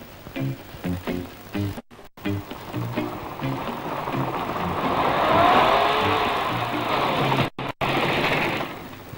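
A Citroen car drives steadily between brake tests, its engine and road noise building into a loud, continuous drone, with a few short pauses in the early part.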